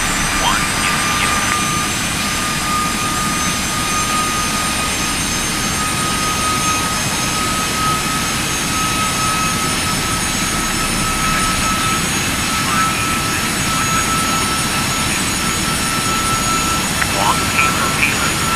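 Steady, loud jet engine roar of a Turkish Airlines Boeing 737-800 landing at Adana, a continuous broadband rumble with a faint whine throughout, and radio chatter faintly audible beneath.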